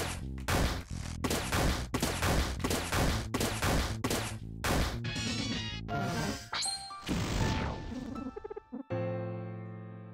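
Video game gunfire from Lisa: The Painful: a rapid run of loud, sharp retro shots and crashes, then a warbling sweep as a bullet flies over, ending in a clipped buzzy tone and a fade.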